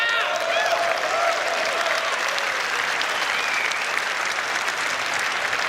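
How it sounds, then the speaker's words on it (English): A large crowd cheers and applauds in a dense, steady roar that fills the whole stretch, with a few voices shouting within it. "Everybody's cheering and stuff."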